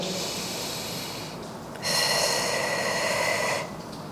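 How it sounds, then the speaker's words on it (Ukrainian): Deep breathing in and out during a pelvic floor exercise, a steady airy inhale and exhale with a louder, fuller breath in the middle, close and alone without talk. "Знову вдих. Видих."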